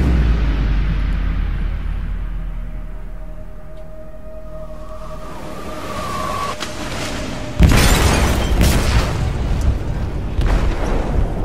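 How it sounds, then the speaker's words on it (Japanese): A bomb goes off in a ship's cargo hold in the video game Detroit: Become Human. A low rumble and faint tone give way to a sudden loud blast, followed by a sustained crackling roar. "貨物室で爆弾が爆発しました。"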